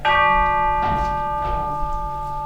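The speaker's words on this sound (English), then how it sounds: "The bell tolls." A bell tolls at midnight during a stage production of A Christmas Carol, a single loud ringing strike whose sustained overtones linger and slowly fade, with a faint second stroke and no speech.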